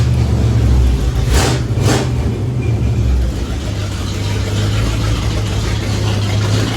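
A car engine idles steadily just after startup at a lowered idle, its badly leaking exhaust giving a loud, rough, constant rumble, with two brief hissy bursts early on.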